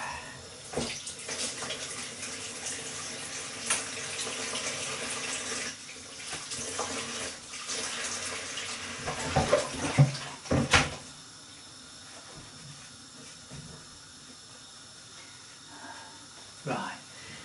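Hands being lathered with soap and rinsed under a running kitchen tap after handling raw pork, a steady broadband water rush with splashes and clatters, the flow cutting off partway through, with someone talking at times.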